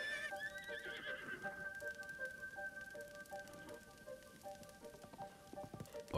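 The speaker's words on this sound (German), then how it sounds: "Ich muss warten, bis das Pferd hier ist." A horse in Zelda: Breath of the Wild arrives with a drawn-out whinny and repeated neighs over steady clip-clop hoofbeats, fairly close and alone with no talk, against a faint game ambience.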